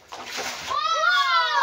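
Floodwater splashes inside a house in a brief splattering burst, followed by a voice speaking up close.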